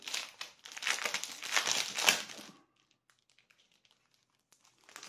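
Steel-blue paper crinkles loudly and continuously for over two seconds as it is drawn out of its packaging, then stops, leaving near silence with a few faint rustles.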